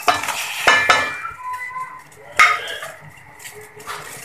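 A pot of kahwa cooking as jaggery is added and stirred: a metal spoon clinks against the pot a few times over a soft simmering sizzle, with scattered sharp knocks.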